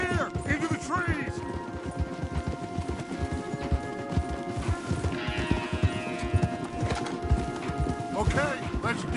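Horse hooves clip-clop in Red Dead Redemption 2 as several horses travel through trees, a steady rhythmic patter of steps under game music, with an occasional whinny and people talking over it.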